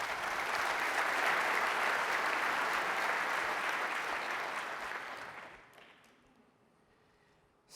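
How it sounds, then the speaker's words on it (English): Audience applause at a 2023 tech conference keynote on Kafka and Flink, a dense wash of clapping from a large crowd that holds steady, then fades out and ends in near silence. "A round of applause for Satish"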